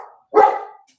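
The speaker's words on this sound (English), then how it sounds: "Let's see what he's barking at." Victor, a pet dog, lets out a single loud, close bark at home, after a faint lead-in sound, with no talking over it.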